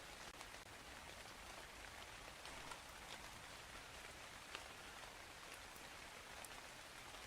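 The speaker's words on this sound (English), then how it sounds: "I do want to put on the rain sounds from last time though." Rain sounds recording played back during a drawing session, soft continuous patter of rain with scattered drops, faint and even throughout.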